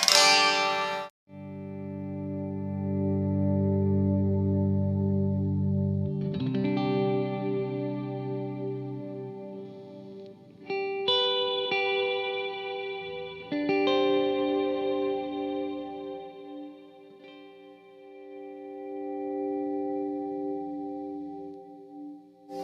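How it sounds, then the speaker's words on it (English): Electric guitar volume swells fade in smoothly through effects pedals with no pick attack, swelling into lush, chorused sustained tones layered with echo and gentle distortion, played alone. "let me show you what the swell's like here"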